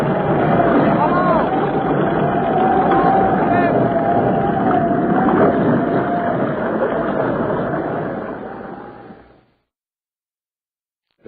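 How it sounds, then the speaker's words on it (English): Loud, steady roar of wind and churning water around a boat caught in a hurricane at sea, with a droning engine tone running underneath, cutting off abruptly near the end. "the Gregory boat has run into one of the hurricanes so common to that locality"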